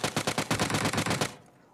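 Sustained automatic fire from a UMP45 submachine gun in PUBG, a rapid run of about a dozen close, loud shots that stops abruptly and leaves a short fading tail.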